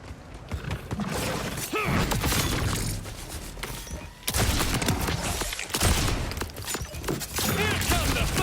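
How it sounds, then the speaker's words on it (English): Rapid gunfire in the video game Borderlands 4 during a mine battle, dense bursts of shots and mechanical clatter filling the whole stretch, loud and continuous with only a brief lull midway. "Throw a knife, shoot him, and then continue shooting."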